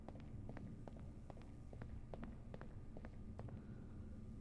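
Quick running footsteps echo through a tiled pool space in the video game Swiminal Spaces, a steady rhythm of light hollow steps with reverberant tails and faint extra step echoes.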